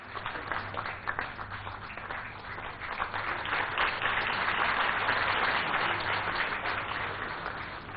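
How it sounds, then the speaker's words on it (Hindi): An audience at a Safaigiri Award ceremony gives sustained applause, a dense wash of clapping from many hands that swells slightly midway and continues throughout, heard at moderate distance with no talk. "बड़ी उपलब्धि के लिए ढेरों तालियां पश्चिम बंगाल के नौदिया से पीबी सलीम जी।"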